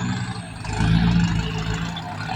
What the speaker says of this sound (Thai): เสียงเครื่องยนต์วีดเลย